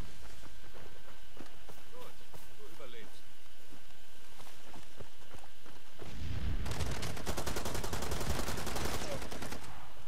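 Gunfire in the video game Far Cry 2: quiet footsteps and faint shots at first, then a loud, rapid burst of automatic fire in the second half, with people talking over the game.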